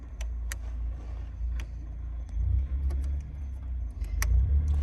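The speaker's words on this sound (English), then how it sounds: "Oh, a Miata." A Mazda Miata drives by on a street, a low, moderately loud engine rumble swelling and fading, with small clicks and knocks nearby.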